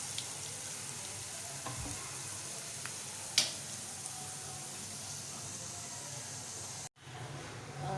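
Steady hiss and crackle of onions frying in hot oil with cumin and chillies, continuous and close, with a brief clatter partway through and a short drop near the end.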